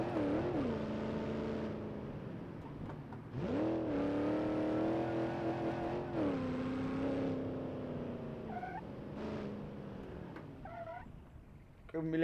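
Simulated car engine in BeamNG.drive on a San Francisco map, droning and revving up and down through several surges, with short squeaky chirps near the end; loud and continuous with no talking.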